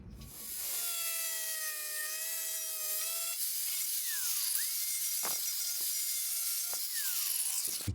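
A drill bores into the metal side sill of a van, giving a steady high whine that holds for several seconds, then breaks into shorter bursts and pitch drops, loud and close.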